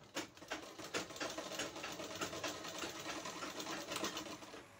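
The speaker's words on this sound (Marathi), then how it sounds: "आणि आपल्याला तिथं शिलाई मारून घ्यायची आहे." A sewing machine runs steadily, stitching a sleeve in a tailoring workshop, its rapid continuous mechanical whirr and needle clatter holding at a fairly even level throughout with no talk.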